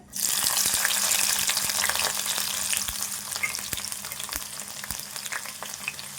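Frying in a pan while cooking prawn curry, a dense continuous sizzle with faint ticks and crackles, close and steady with no voices.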